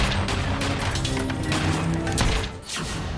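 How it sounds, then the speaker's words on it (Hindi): Dense, loud rapid gunfire during a shooting inside a house in Delhi, a continuous roar of overlapping shots and crashes that eases slightly near the end. "दनादन गोलियां चल रही थी"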